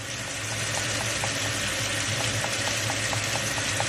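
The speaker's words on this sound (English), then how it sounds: "whenever I want to clean my beauty blender, I go underneath the water with it" Tap water runs in a steady stream over a beauty blender makeup sponge being rinsed clean, a continuous close splashing hiss with no talk.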